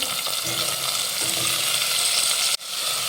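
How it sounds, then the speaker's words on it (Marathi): Raw peanuts and finely diced potato sautéing in hot oil for Maharashtrian masale bhat, a loud, dense, continuous sizzle with faint stirring scrapes, close up, with a brief cut near the end. "एक मध्यम आकाराचा बटाटा बारीक फोडी करून घेतलेला आहे तो घालूयात आणि परतून घेऊया"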